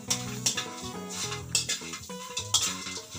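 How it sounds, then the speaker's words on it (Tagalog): Close, busy clatter and scraping of a spatula stirring dried anchovies in a hot, oil-free wok, with rhythmic metallic knocks and a light dry sizzle, no voices. "Sasangagin mo siya sa mainit na kawali. Wala mo ng mantika."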